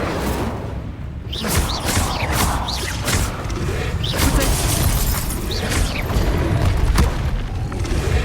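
Incendio fire spell cast in the Hogwarts Legacy video game, a run of whooshing fiery bursts and booming crackles over a dense, continuous game soundtrack of rumble and effects, loud throughout with no pauses.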